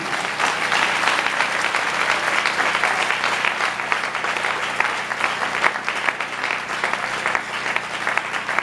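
Sustained congregational clapping at a church service, lively and continuous with rhythmic accents, filling the space with no break across several seconds.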